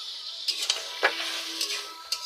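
Chicken pieces sizzle in hot oil in a pan while being stirred for a chicken curry, a steady bright crackle punctuated by several sharp metallic scrapes and clinks of the spoon against the pan, close and alone.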